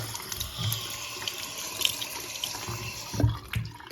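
A faucet runs steadily into a sink during a lime and calcium cleanup, a continuous close splashing stream with occasional louder splashes.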